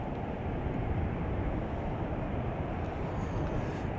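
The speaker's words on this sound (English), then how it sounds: "Lufthansa flies 2 A340s into Chicago O'Hare daily as of this fall." A Lufthansa Airbus A340 jet arrives at Chicago O'Hare with a broad, steady roar, loud and continuous throughout, and no voices.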